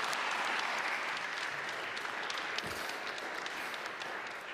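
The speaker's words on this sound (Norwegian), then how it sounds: "Gi han en varm applaus." Warm applause from a seated audience at a drug-policy talk welcoming a university geography researcher to the stage, a steady wash of many hands throughout, slowly thinning toward the end.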